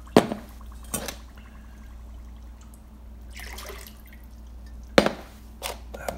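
Water splashes and drips as it is poured into glass jars and swirled to rinse out leftover peach wine sediment; a few sharp splashy bursts stand out between quieter stretches of trickling.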